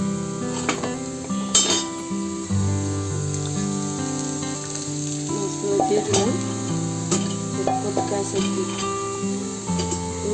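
Fish pieces go one by one into a hot pan with dal and bottle gourd in a home kitchen, giving a steady close sizzle with occasional clinks of utensils against the pot.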